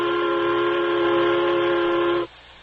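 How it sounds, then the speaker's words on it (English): A steam locomotive whistle blows one long, steady, chord-like blast that cuts off abruptly, leaving faint background rumble. "There's the turtleback's whistle now."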